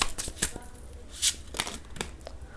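Tarot cards are shuffled by hand, giving several quick papery riffles and soft slaps at close range, with faint background murmur.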